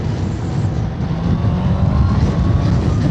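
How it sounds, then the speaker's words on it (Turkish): A 2025 Honda CB650R motorcycle with E-Clutch runs steadily while gears are changed by foot without the clutch and with the throttle held open, giving a continuous loud engine drone that changes little in pitch. "Dolayısıyla vitesleri ben kendi kendime ayağımla değiştiriyorum."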